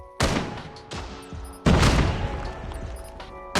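Call of Duty Mobile gunfire: several sharp, loud shots and bursts crack out in quick succession, each with a booming tail, close up and with no talk over them.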